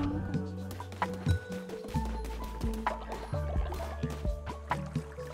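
Cult of the Lamb crops being watered: soft bubbly gurgles and drips recur over looping game music and sound effects, steady and moderately loud.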